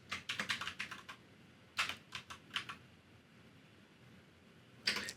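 A grep command typed on a computer keyboard: a quick run of close, crisp key clicks, a second shorter flurry, then a single final keystroke after a pause.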